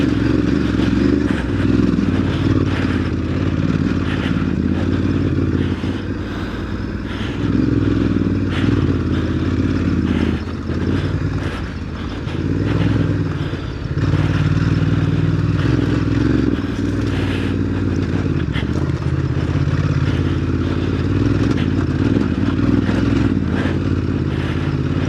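Ducati DesertX adventure motorcycle ridden off-road on dirt at Browns Camp, its engine droning loud and steady in second gear with small throttle changes, along with rattles and scraping from the rough ground.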